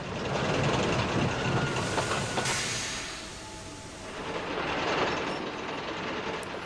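A cartoon train rolls along tracks with a continuous rumbling rattle that swells, dips slightly in the middle, then builds again, with no voices.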